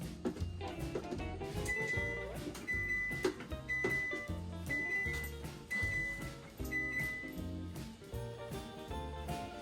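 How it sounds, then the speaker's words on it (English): A series of short, high electronic beeps from an oven reaching 375 degrees, spaced about a second apart, faint beneath steady background music. "That noise you hear is I got my oven back up to 375."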